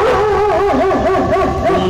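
A dog lets out a loud, close, wavering howl-like bark that rises and falls for under two seconds, with nothing else heard.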